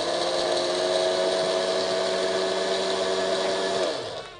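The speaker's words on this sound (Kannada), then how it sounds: "ಸರಿ ಮಿಕ್ಸಿ ಮಾಡ್ಕೊಂಡ್ಬಿಡ್ಲಾ?" Mixer grinder whirring steadily as it grinds jaggery for a wheat-flour sweet, a loud continuous motor drone with a tonal hum that holds for nearly four seconds, then cuts off and winds down.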